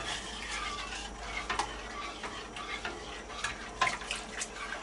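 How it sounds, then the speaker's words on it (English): A flour mixture for homemade mac and cheese is stirred in a pan, giving repeated scraping swishes with light sizzling, close and fairly quiet, in an uneven rhythm with several sharper strokes. "Don't stir too fast or the mixture will splash back up on you"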